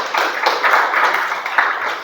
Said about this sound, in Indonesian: Tepuk tangan untuk kelompok 4 ya